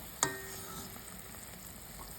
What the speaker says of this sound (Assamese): এয়া চাওক, ৰসগোল্লাখিনি ধুনীয়াকৈ উতলি আছে আৰু এনেকুৱা হৈছে